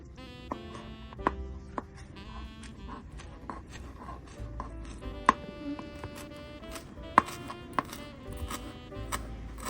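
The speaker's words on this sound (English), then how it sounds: "I'm gonna get it washed and then chopped finally to put on my mashed potatoes" A knife chops fresh parsley on a board, sharp irregular taps spaced through the passage, close but fairly soft, alone under steady background music.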